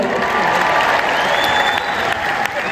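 Rally crowd at a Donald Trump event applauding steadily, a dense continuous wash of clapping and crowd noise held at a loud, even level throughout.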